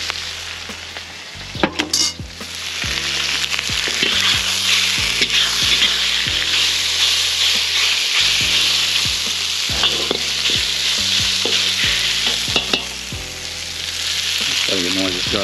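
Beef and garlic stir-fry in a wok with a loud, continuous sizzle, broken by repeated knocks and scrapes of the utensil against the pan.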